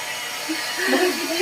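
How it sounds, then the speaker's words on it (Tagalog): A hair blower drying clothes during home quarantine gives off a steady whirring hum, mostly buried under a person speaking close by. "Nag-blower na siya ng damit"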